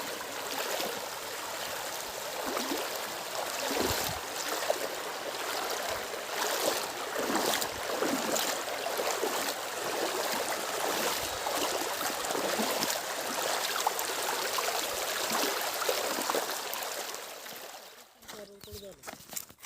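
A river flows steadily at a fishing spot, a continuous moderate rushing and gurgling of water heard fairly close, with faint handling noises near the end.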